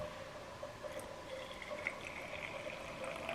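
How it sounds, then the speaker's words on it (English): Coffee is poured into a cup while making a spicy cinnamon Mexican mocha latte, a continuous gentle trickling stream, close and fairly quiet. "So I'm just going to pour my coffee into this cup."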